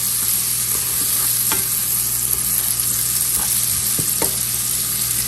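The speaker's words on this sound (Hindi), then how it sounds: "हम इतना इसको भूनेंगे कि हमारे लहसुन और अदरक की अच्छी सी खुशबू आनी शुरू हो जाए" Garlic and ginger fry in a pan, giving a steady broadband sizzle throughout with a few soft scrapes and clinks from stirring, close and fairly loud, with no voices.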